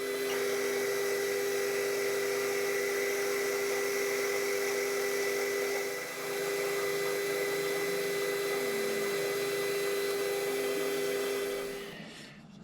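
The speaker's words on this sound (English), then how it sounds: "face this end off and just clean this edge up just enough till it cleans up" A metal lathe faces the end of a roughly three-inch workpiece with a steady, loud tonal whine and hum that briefly dips midway, then winds down as the machine stops near the end, with no voices.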